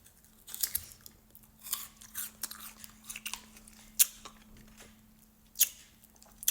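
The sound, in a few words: chewing frozen orange tanghulu candy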